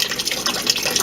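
Water running from the spigot of a craft beer kit fermenter during cleaning, a short, loud gushing trickle with uneven splashy pulses and no talk.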